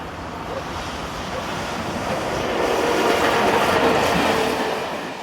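A locomotive heads a local passenger train from Poprad to Žilina on the main line near the Tatra Mountains in Slovakia, a broad steady rumble that swells gradually as it passes, with wind-like noise throughout.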